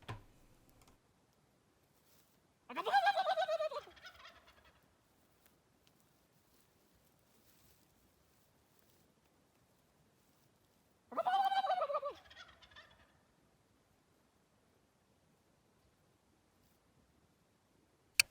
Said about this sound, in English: watching this bird gobble back at me